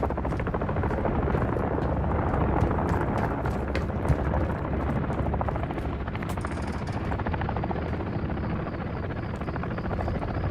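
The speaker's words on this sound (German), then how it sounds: "Heli ist verdammt hartnäckig." A hostile helicopter in the Modern Warfare III campaign keeps up a loud, continuous rotor drone with a rapid chopping pulse, joined by scattered bursts of gunfire and impacts, with no voices.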